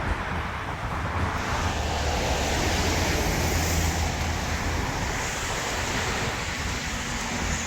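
Waves break continuously at Corniche beach in Abu Dhabi, a steady full-band surf wash with some wind rumble, loud and close with no talking.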